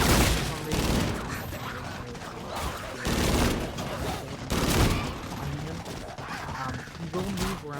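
Repeated bursts of rapid gunfire strike a boss in Call of Duty zombies on the Shaolin Shuffle map, loud clustered volleys with game effects and a voice speaking between them.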